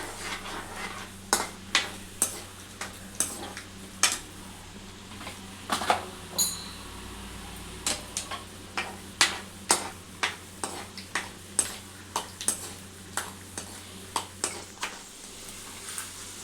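Peanuts fry in a pan for dry upma, with a steady soft sizzle under regular clicks and scrapes of a spoon against the pan, close and continuing without speech.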